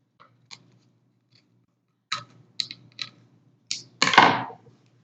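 Scissors snip through tape wrapped on a bat handle, giving several short, crisp cuts spaced apart and ending in one longer, louder rasping cut, close up with no talking.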